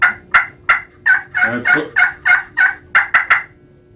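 Wild turkey gobbling made with a turkey call for hunting, a loud, close series of about a dozen sharp, rattling gobble bursts in quick rhythmic succession with no voices.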